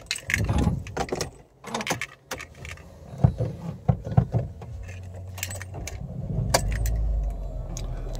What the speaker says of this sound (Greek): Βλέπουμε παίρνει μπρος κανονικά πάλι το αυτοκίνητο